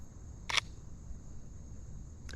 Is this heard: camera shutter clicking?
yes